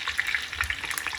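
Meatballs sizzle and crackle in a hot frying pan as a crust forms, a dense steady hiss broken by quick bright pops, close and alone with no voices.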